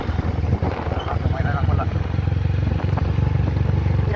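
A motorcycle engine running close by during a ride on vacation, a loud steady low rumble with wind buffeting, while a person talks over it.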